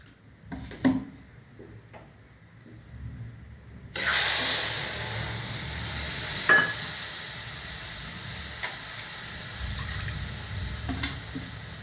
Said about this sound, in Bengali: এটাকে আমি এবার জল দিয়ে গুলে এর মধ্যে সাঁতলে নেব